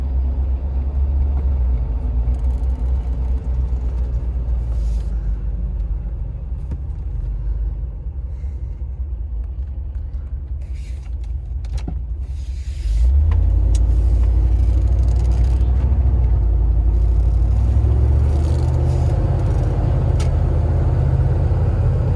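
Engine of a 1988 short-wheelbase Range Rover Classic heard from inside while driving, a low steady rumble that swells into a louder, heavier drone midway as it accelerates, with no speech over it.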